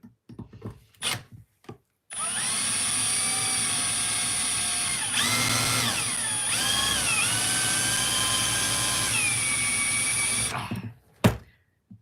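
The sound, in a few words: drill bit drilling a hardened steel pinion of an RC truck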